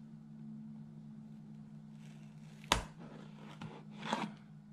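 Close scraping and tearing sounds of a knife slicing through the cardboard tape of an LG V60 phone box, in a few short strokes over a steady low electrical hum.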